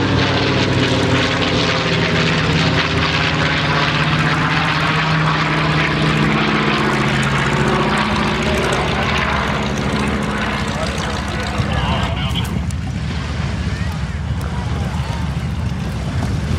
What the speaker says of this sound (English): we're very happy to see this Ju-52 flying again after so many years